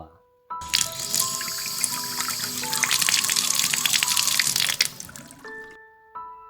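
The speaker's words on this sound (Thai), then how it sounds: "เธอได้ยินเสียงก๊อกน้ำในห้องครัว" Water pours steadily from a kitchen tap for several seconds, a continuous rushing splash, with soft electronic tones before and after.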